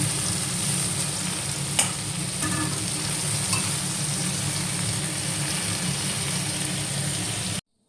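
Olive pickle cooking in a pan, a steady close sizzle and bubbling throughout with occasional light clinks of a spoon stirring, ending abruptly.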